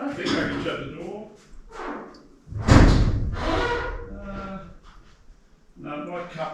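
A shed door on an off-grid homestead is pushed shut with one heavy thud, set between stretches of someone talking nearby.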